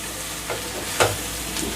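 Telangana-style chicken masala being stirred in a pan, with quiet scraping and soft sizzling, a few brief louder stirs rising above a steady low frying hiss.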